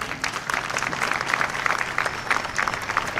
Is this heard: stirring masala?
no